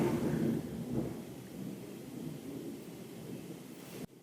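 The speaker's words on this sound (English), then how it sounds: "the thunderstorms are clearly still happening" Thunder from a thunderstorm rumbles low and broad, loudest in the first second, then settles into a steady distant roll that fades out near the end.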